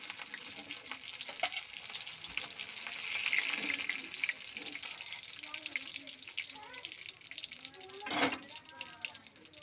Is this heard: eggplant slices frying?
yes